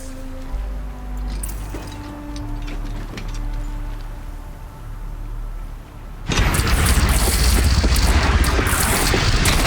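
Cannon fire in the video game Horizon Zero Dawn erupts partway through as a sudden loud, sustained blast that cuts across quieter ambient game music and lingers to the end.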